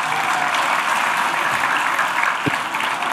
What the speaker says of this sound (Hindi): जोरदार जोरदार तालियां चाहिए.